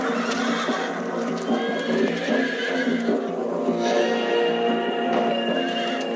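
Several young horses whinny and neigh repeatedly at close range, with steady hoof clip-clops running beneath throughout, loud and continuous with no talking.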